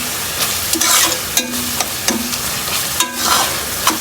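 Okra (bhindi) is stirred and fried with spices in a pot, giving a close, loud sizzle with repeated scraping and knocking strokes of a spoon against the metal, and no voices.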